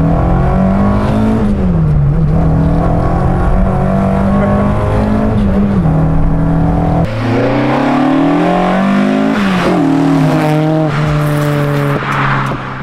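A 200-horsepower Ford Mk1 Escort engine driven hard on roads, loud and close throughout, with revs rising and falling through gear changes.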